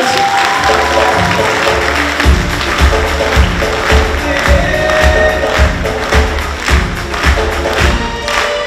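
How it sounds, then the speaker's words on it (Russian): Audience applause at a jubilee oriental belly dance studio concert, dense clapping with rhythmic low thumps underneath, steady and loud throughout, with a crowd murmur. "бурные аплодисменты – это как бальзам на душу"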